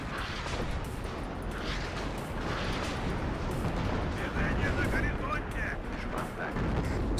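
Artillery fire in the war game WARNO rumbles as a dense, continuous barrage of booms and blasts, loud and unbroken throughout.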